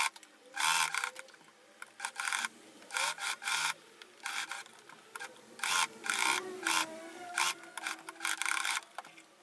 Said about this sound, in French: Puis je viens coudre sur les côtés, en dessous dans la valeur couture et je remonte sur l'autre côté.